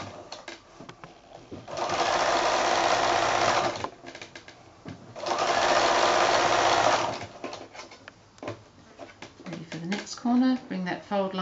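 A sewing machine back-stitches binding onto a quilted placemat. There are two close, steady bursts of rapid whirring stitching of about two seconds each, separated by quieter handling. A person talks near the end.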